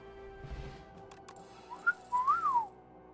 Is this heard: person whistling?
yes